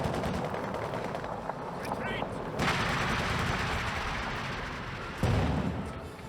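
MG34 machine gun and scattered rifle fire in the strategy game Company of Heroes 2, a steady rattle of distant battle under continuous commentary, with a sharp louder burst near the end.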